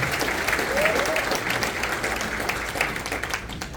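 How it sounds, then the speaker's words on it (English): An audience at a gala breaks into sustained applause after the Pledge of Allegiance, a full room of clapping that slowly tapers off. "Round of applause for the United States of America."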